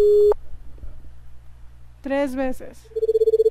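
A video game telephone in the RPG Cannon Room gives repeated electronic ringing and busy-signal tones, a steady tone at the start and pulsing beeps at the end, with someone speaking briefly in between.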